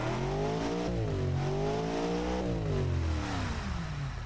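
A V8 supercar engine in the Automation game revs loudly and continuously, its pitch rising and falling through several throttle sweeps with no talk over it.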